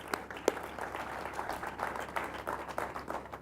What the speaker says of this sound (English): Let's give a round of applause to Visit St.